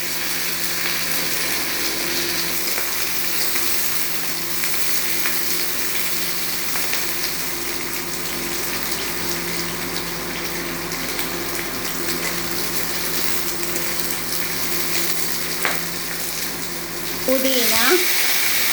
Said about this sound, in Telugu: నూనె వేడైన తర్వాత 10-12 పచ్చిమిర్చి తీసుకోవాలి